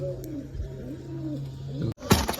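Two pigeons sit in a pigeon setup, giving a steady, close, low throaty cooing that rolls on for about two seconds before a sharp rustle or clatter cuts in.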